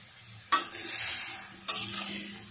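Hog plums with turmeric, bay leaf and cloves stirred in a pan for an oil-free pickle, two sharp scraping strokes over a gentle sizzle, close by and with no voices.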